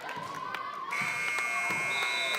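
A long electronic buzzer sounds at the end of a high school boys' basketball game, starting about a second in and holding steady over gym crowd noise, with sharp bounce-like thuds beneath.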